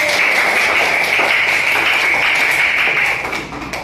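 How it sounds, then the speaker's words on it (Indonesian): A classroom of students applauds a student group after its work is presented, a dense, steady patter of many hands clapping together that holds evenly and then tapers slightly near the end. "Tepuk tangan untuk kelompok C."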